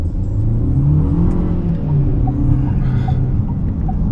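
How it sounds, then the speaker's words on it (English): A 2024 KGM Torres's 163-horsepower engine revs up steadily in sport mode from inside the cabin, a rising mid-pitched drone under a constant road rumble. "Let's just do a little bit of acceleration here."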